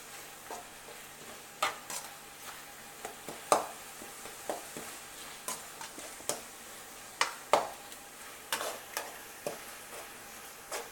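Ingredients with curry leaves and coriander sauté in a pan for crab gravy, with a low sizzle under repeated sharp spoon taps and scrapes arriving in an irregular rhythm.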